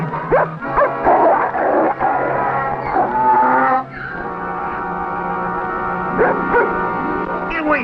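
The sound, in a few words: dog barking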